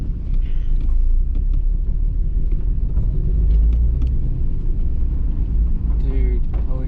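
A Mitsubishi 3000GT with a manual gearbox rolls in reverse, its low engine rumble steady and close, with wind buffeting and voices talking over it.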